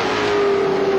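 Greg Murphy's Mobil Holden Commodore touring car racing in the 1997 ATCC round at Calder Park, engine holding a loud steady high-revving note throughout the short burst.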